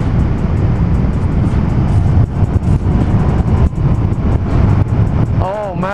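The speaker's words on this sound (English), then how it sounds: "this bike just takes these curves so beautifully" A motorcycle rides through curves, its engine a steady low rumble mixed with heavy wind buffeting from the open road; a rider talks over it throughout.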